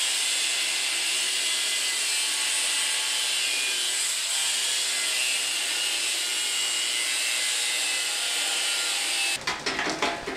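A handsaw cuts wood crosswise while shaping a dragonslayer build, making a steady, continuous rasping stroke that stays close and loud with no talk, then stops abruptly near the end.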